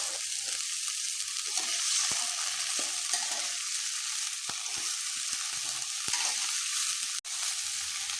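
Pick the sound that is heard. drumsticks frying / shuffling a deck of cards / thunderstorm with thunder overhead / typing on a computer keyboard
drumsticks frying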